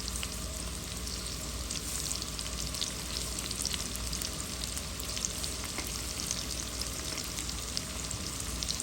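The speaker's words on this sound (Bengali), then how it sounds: "একটু ভেজে নেব।" Onion, green chili and salt fry in leftover fish-frying oil for a pabda fish and bottle gourd curry, making a steady, close crackling sizzle with faint popping spatters throughout.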